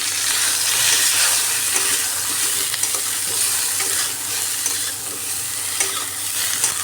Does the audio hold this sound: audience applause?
no